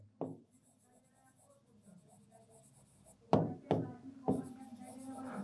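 Writing on a board in an accounts lesson, with a few sharp knocks and taps of chalk or pen among soft strokes, close and fairly quiet, and faint voices in the background.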